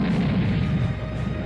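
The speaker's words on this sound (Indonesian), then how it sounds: "Ledakan pun terjadi diakibatkan serangan itu." An explosion from an attack bursts out as a loud, dense crashing roar that holds at full strength for the whole short moment, with no voices over it.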